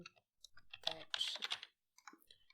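Computer mouse clicks while working in ArchiCAD software, several quiet, sharp clicks scattered across a short stretch with a denser burst in the middle, close and faint.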